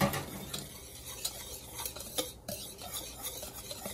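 Flour and seasoning are stirred together in a bowl as a coating for frying catfish and white perch, a close, quiet series of rhythmic scraping strokes with faint utensil clinks.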